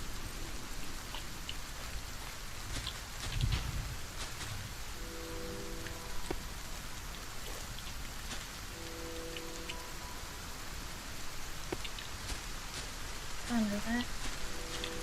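Steady rain falls in the Solarpunk survival game, a continuous soft hiss of drops on surfaces that runs throughout with occasional brief game tones, while a person talks over it.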